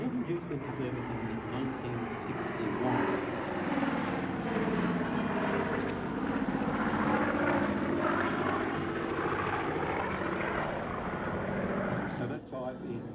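A Caribou piston-engine aircraft at the Wings Over Illawarra airshow makes a loud, sustained propeller drone that swells and holds as it passes, then eases near the end.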